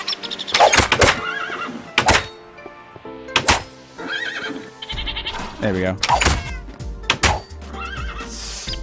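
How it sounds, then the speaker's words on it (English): Horses in the Minecraft video game neigh and whinny several times in short bursts among game clicks and thunks, with a person talking over them. "There's seriously a lot of horses over here."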